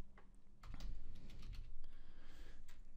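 Rapid, irregular clicks of fingers typing on a computer keyboard, close and moderately loud, with uneven bursts of keystrokes and no talking.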